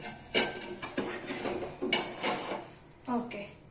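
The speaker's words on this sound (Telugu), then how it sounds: "ఇప్పుడు నేను మీకు ఈ సింక్ లో ఉన్న స్టీల్ గిన్నెలు కూడా తోమేసి చూపిస్తాను" Steel vessels being scrubbed with herbal soap paste in a kitchen sink give a few sharp, close metallic clinks and knocks, spaced irregularly, over a soft scraping background.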